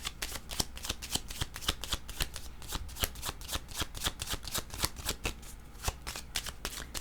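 A deck of playing cards is shuffled repeatedly, giving quick, crisp riffling bursts in a fast, even rhythm, close and clear, with no talking.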